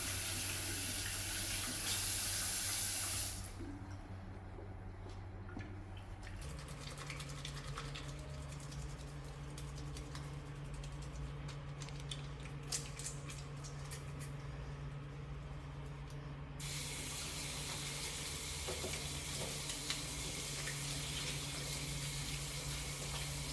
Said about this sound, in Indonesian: Lakukan cuci tangan dengan air dan sabun.